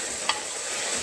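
Rice fried with raisins is stirred in a pressure cooker, giving a steady, soft sizzle with one brief scrape of stirring near the start over about a second.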